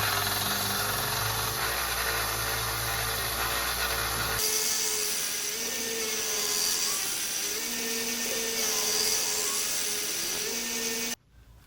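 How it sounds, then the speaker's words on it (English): Belt grinder cleaning up the bevels on a Nakiri-style kitchen knife blade, a loud continuous abrasive whine with shifting pitch as the steel is worked, cutting off abruptly at the end. "back to the belt grinder. I'm gonna clean up the bevels here, get any scale on there off, so then it can be tempered."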